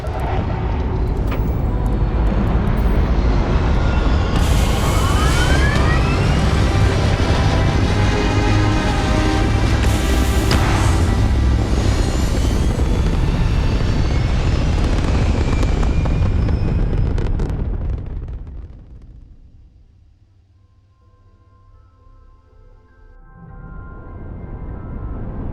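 A spaceship in Starfield takes off with a loud, sustained roaring rumble and rising whine lasting many seconds, then the noise falls away to near quiet before a softer hum swells back in.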